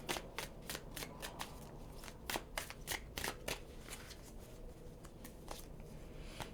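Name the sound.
shuffling tarot cards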